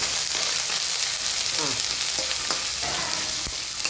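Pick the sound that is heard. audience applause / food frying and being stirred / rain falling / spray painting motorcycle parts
food frying and being stirred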